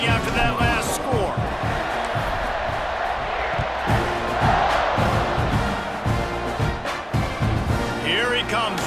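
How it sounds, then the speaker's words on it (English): A stadium crowd buzzes in the EA Sports College Football 26 video game just after a touchdown, a dense roar and cheering that run continuously under game commentary. "this crowd is buzzing after that last score"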